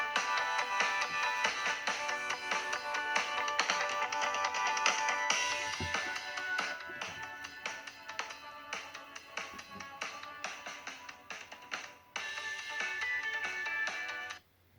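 A song set as an Android phone's ringtone plays from the handset, a continuous tuneful melody that runs fairly quietly and evenly before cutting off near the end.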